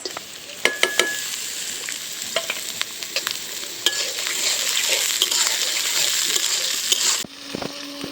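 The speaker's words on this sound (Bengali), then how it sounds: "দিয়ে দিলাম সয়াবিন তেল এখন দিয়ে দিব পেঁয়াজ আর কাঁচামরিচ" Onion and green chili fry in hot soybean oil, a steady bright sizzle running throughout with scattered spoon clinks and scraping against the pan, then a quieter stretch near the end.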